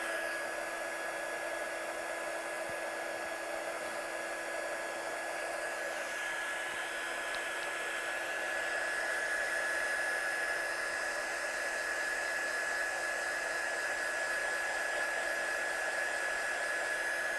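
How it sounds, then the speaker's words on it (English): A hair dryer blows steadily over painted artwork for its whole length, a constant loud whirring hum with a high whine, alone and unbroken. "it's always a good idea as well to dry your artwork from the back side as well"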